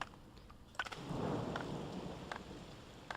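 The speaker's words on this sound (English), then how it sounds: "We have rain." A rain miracle spell in the video game Settlers III sets off a rolling rumble of thunder with a wash of rainfall, preceded and followed by brief clicks, heard alone at moderate volume.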